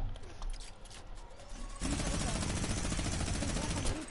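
Gunfire in the Fortnite video game bursts in a dense, fast rattle of rapid shots that runs continuously through the second half, faint at first and then steady.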